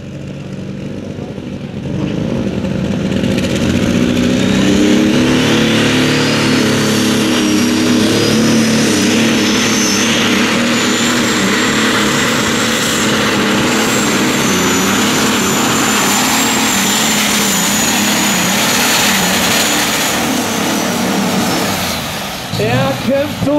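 A new German pulling tractor in the 2.5-ton free class roars through a tractor pull run, its engine a loud, continuous, strained howl lasting about twenty seconds with a rising whine before it cuts away.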